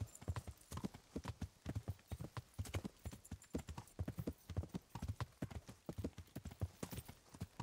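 Horse hooves clip-clop in Kingdom Come: Deliverance, a steady rhythmic walking beat of close, distinct hoof strikes that lasts throughout, with a brief whinny-like sound and no speech.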